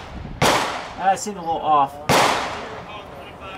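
Two sharp, loud Mosin-Nagant M91/30 rifle shots ring out close by at an outdoor range, each with a ringing decay; a person speaks briefly between them.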